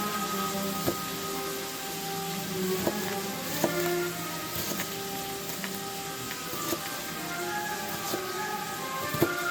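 Fresh onions cook with bacon in a pan, giving a soft, steady sizzle dotted with scattered tiny pops and crackles at irregular intervals, with no talking.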